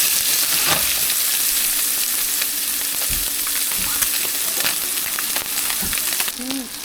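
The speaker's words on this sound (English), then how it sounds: "The oil is hot. I'm gonna set the fish in," Black drum fish searing in hot oil gives a loud, steady sizzle and crackle throughout, with a brief faint voice near the end.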